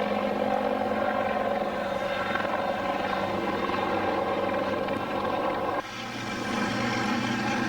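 Cobra attack helicopters flying in support of armored forces during a military exercise, a loud, steady rotor drone that holds throughout, with a brief dip near the end and no voices.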